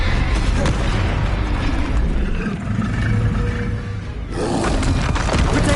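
A Confringo fire spell exploding in the Hogwarts Legacy video game, a loud sustained roaring blast that briefly dips and then surges again.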